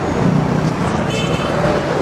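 Road traffic on a street in Pakistan, with cars passing in a steady, dense roar and a faint hint of voices in the background.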